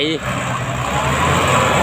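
GS 115-horsepower farm tractor grading wet clay ground, a steady, loud engine rumble and churning throughout, with a brief voice at the very start.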